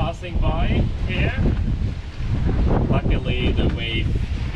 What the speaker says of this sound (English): the wind gusts are pretty strong